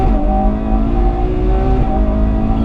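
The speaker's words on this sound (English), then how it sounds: "Which from a front engine V12 is a monumental achievement." Front-mounted V12 of a Ferrari 812 Superfast droning loud and steady on a track, a sustained engine note with a shifting pitch throughout and no voices over it.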